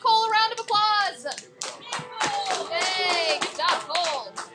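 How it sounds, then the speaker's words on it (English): Students in a classroom clap a round of applause, with children's voices cheering and shouting over the brisk, uneven clapping throughout. "All right, give Cole a round of applause"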